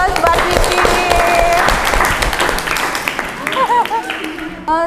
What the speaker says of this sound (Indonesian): Ya, kasih aplaus buat Vicky.